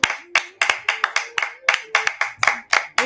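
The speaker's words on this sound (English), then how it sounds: "We clap for you." An audience clapping in unison, about a dozen sharp, evenly spaced claps over a few seconds, close and clear, with a faint voice underneath.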